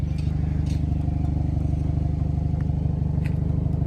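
Exhaust of a Hyundai i30N idling close by, a deep, bassy, steady rumble with a fast even pulse and faint clattery ticks on top, no talk.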